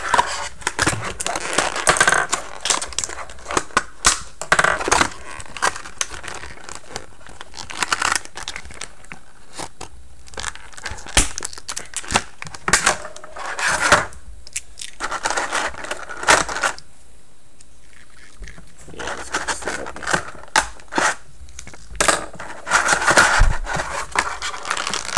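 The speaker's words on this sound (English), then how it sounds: "Let's get Deluxe Mission Captain America out of his packaging." Deluxe Mission Captain America 3.75-inch action figure being pulled from its packaging, with dense, close crinkling, crunching and tearing of plastic and cardboard in irregular bursts, broken by a few brief quiet pauses.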